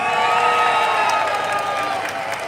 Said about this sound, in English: I salute you and I cheer you, and please go ahead, cheer yourselves